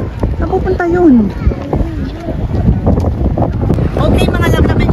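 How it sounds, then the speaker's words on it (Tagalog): Strong wind gusting outdoors in Monte Carlo, Monaco, near the Prince's Palace, a steady rushing roar buffeting the microphone throughout while someone talks over it. "na medyo malakas ang hangin"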